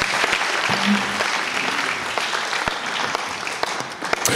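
A church congregation at a Covenant Family Day service bursts into dense, sustained clapping in praise of God. Sharp individual claps stand out above the steady applause, with a brief voice heard briefly near the start.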